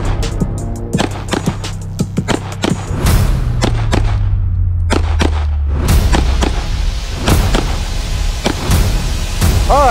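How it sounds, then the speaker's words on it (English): Two sharp gunshots at USPSA targets crack out loud and close, part of a series of rapid impulsive reports spread across the clip, with no talking. "We're gonna fire two shots into the A zone of each target"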